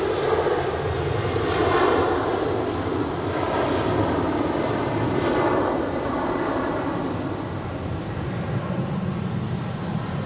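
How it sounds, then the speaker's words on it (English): A Helvetic Embraer jet departs Zurich Airport for Stuttgart, its engines producing a broad, continuous roar that swells and slowly eases, with no voices over it. "we have the next departure, which is the Helvetic Embraer to Stuttgart"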